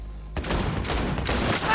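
Rapid bursts of gunfire rattle continuously and loudly in Cyberpunk 2077, sounding like a sustained volley of automatic shots.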